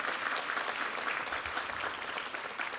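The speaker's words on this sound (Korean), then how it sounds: "한번 격려 박수 한번 부탁합니다" A church congregation applauds during a Sunday worship service, a full, steady wash of many hands clapping continuously at even loudness throughout.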